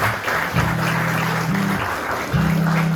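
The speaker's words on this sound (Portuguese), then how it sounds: "Aplauda o Senhor assim." A church congregation applauds the Lord during a worship service, a steady wash of clapping with sustained low keyboard or organ notes held underneath.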